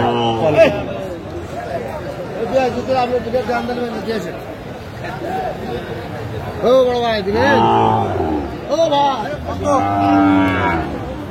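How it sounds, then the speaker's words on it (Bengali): Sahiwal cattle moo repeatedly at a busy livestock market, several long, drawn-out calls rising and falling close by. A crowd chatters and haggles underneath. "শাহিওয়ালার বাচ্চা দেখছিলাম এখানে, দামাদামি চলছে"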